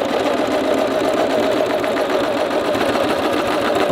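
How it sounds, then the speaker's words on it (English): A sewing machine stitches material onto a ghillie suit, running with a steady, fast, continuous mechanical whir and rapid needle chatter at close range, loud and unbroken throughout. "Stitch it on there."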